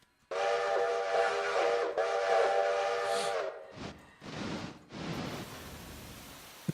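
Steam train whistle in the railroad game Railroader: a long loud sustained blast, then a few shorter toots with hissing steam.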